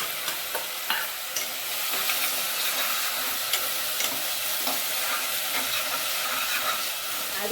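Onions frying with ground mint, coriander stems, shallots, cinnamon and cloves in a pan, a continuous close sizzle with stirring scrapes and soft spatula taps, alone without talk.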